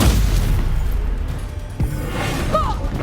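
Explosive spells such as Bombarda and Confringo go off in the video game Hogwarts Legacy, heard as a sustained rumbling barrage with a sharp thud near the middle, over dense combat noise and a whooshing tone near the end.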